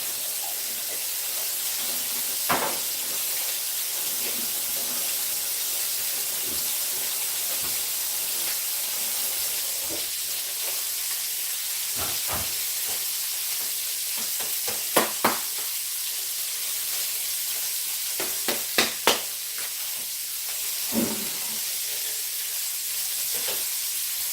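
Minced garlic frying in a hot pan, a steady hiss and sizzle running the whole time with a few sharp crackles and spits, close and fairly quiet.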